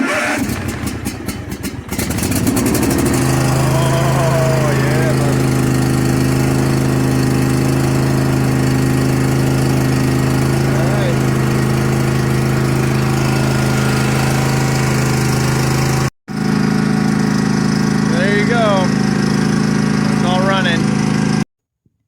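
A Cub Cadet XT2 Enduro lawn tractor's small engine starts after some rattling and then runs steadily at a loud, close idle with a constant low hum, briefly cutting out before resuming; someone speaks faintly over it.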